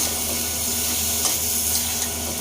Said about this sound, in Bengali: এই যে মশলাটা কষাইয়ে বরবটি এসব আলু কষায় নিচ্ছি